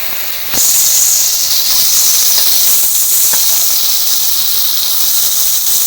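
Lotta, or Bombay duck, frying in hot oil, a strong steady sizzling hiss that swells suddenly as the fish hits the pan and then stays loud and continuous, with a few faint clicks and pops.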